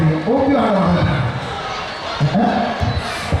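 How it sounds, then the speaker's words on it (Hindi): A ceremony audience claps and cheers in a loud, sustained crowd roar that stays steady throughout, with a voice carrying over the noise. "एक बार जोरदार तालियां बजाकर स्वागत कीजिए"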